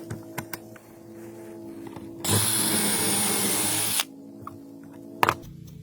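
Power drill boring holes in scrap 2x4 wood: a single loud whirring burst of about two seconds, preceded and followed by quiet clicks and handling knocks.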